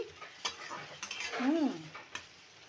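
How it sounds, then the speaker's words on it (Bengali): Spices, ginger, a large tomato and two green chillies are stirred in a pan, with quiet scraping and clinks of a utensil and a few short strokes over a faint sizzle, close and soft. "আর একটা বড় টমেটো আর দুটো কাঁচা লঙ্কা দিয়ে ভালো করে আমি এখন কষিয়ে নিচ্ছি।"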